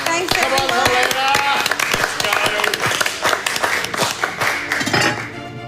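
Crowd cheering and clapping for Helena, a contestant in a busy cooking-competition kitchen making Greek pastries. Dense, steady rapid claps ring out for several seconds, mixed with voices and kitchen clatter.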